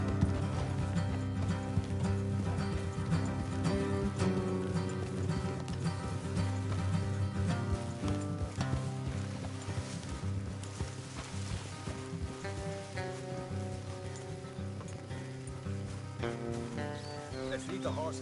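Horses ridden in Red Dead Redemption 2 clop along at a steady pace, hoofbeats blending into a dense game soundtrack with tonal music and ambient rumble, while voices speak intermittently.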